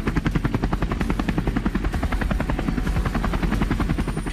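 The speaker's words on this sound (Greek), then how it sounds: "στο σημείο σπέβδει ελικόπτερο της Μονάδας Αεροπορικών Επιχειρήσεων" Steady rhythmic thumping of a police air operations unit helicopter's rotor blades during a rescue at Akamas, Cyprus, loud and close, continuing throughout with a constant engine drone underneath.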